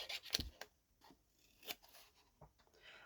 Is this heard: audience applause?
no